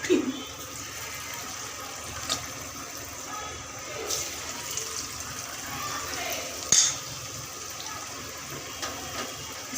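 Chicken pieces cook in boiling oil with a soft, continuous bubbling sizzle, joined by a few brief clatters and bumps, while someone speaks over it.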